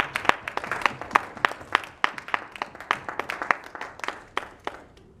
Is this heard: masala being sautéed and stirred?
no